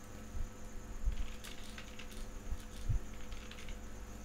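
Soft keystrokes from a computer keyboard as a name is typed, an uneven patter of taps over a steady background hum, with no voices.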